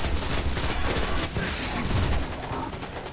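Rapid gunfire from enemies hitting the player in the video game Destiny during a strike, dense and continuous bursts of shots filling the mix at close range.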